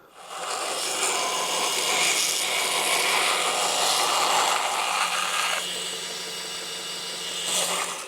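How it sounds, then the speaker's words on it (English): Compressed air blasting dust out of small knife handle parts in a workshop, a loud continuous hiss lasting several seconds that eases slightly near the end before a brief final burst. "I'm going to spray all the dust out as well"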